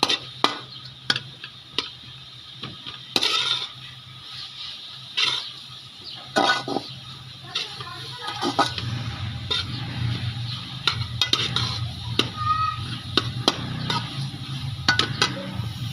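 Masala for Punjabi-style macaroni frying in a pan, with steady sizzling under repeated clinks and scrapes of a spoon against the metal, near and moderately loud throughout.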